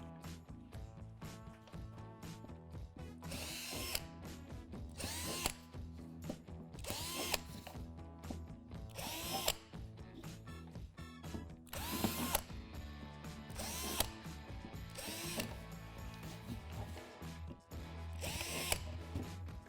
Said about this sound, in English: Drill out 8 holes in the spots indicated on the platform.